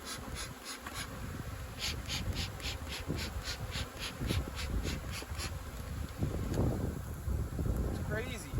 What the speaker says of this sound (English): See how many more bees have come to join the party.